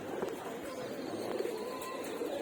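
Domestic pigeons at a rooftop loft with tin roofing give soft, repeated throaty coos close by, with light fluttering and shuffling under a steady background hum.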